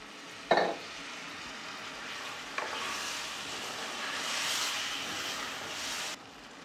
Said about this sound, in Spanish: Le agregamos un poquitito de agua.